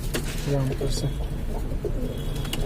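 A domestic pigeon in a Lucknow loft gives several low, throaty coos nearby while someone talks over them, with steady background noise throughout.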